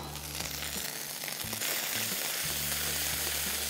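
Ginger garlic paste sizzles steadily in hot oil while cauliflower korma is cooked, a dense, even frying hiss running the whole time with a low hum underneath and no talk.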